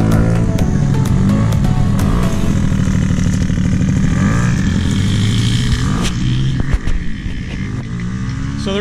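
A kids' four-wheeler quad engine runs steadily and loudly throughout, with a constant buzzing drone and slight shifts in pitch, up close and with no talking over it.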